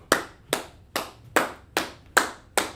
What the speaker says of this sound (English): Parabah, clap it up for that sis.